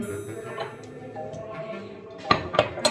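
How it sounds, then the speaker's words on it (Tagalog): Dishes and cutlery clink and clatter during washing up in a home kitchen, soft at first, then a few sharper knocks of plates toward the end, with no one speaking. "Kaya nagugas-ugas ako ng mga pinggan kasi para mamayang madaling araw, malinis na dito."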